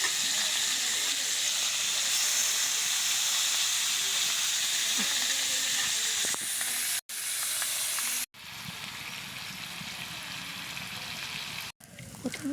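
Hot oil with chopped garlic sizzles in a kadai, a loud, steady hiss that cuts out briefly a couple of times before resuming.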